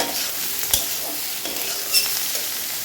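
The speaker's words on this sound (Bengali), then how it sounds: "পেঁয়াজ ভাজতে দিয়েছি" Onions frying in a pan: steady, bright hissing sizzle throughout, with a couple of light clinks from stirring, close and fairly loud.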